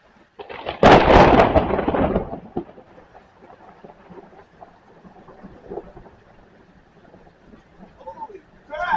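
Loud, close thunderclap from a nearby lightning strike in a thunderstorm, a sharp crack swelling into a heavy rumble for about two seconds, then fading into low rolling thunder and steady storm ambience with faint sounds late in the clip.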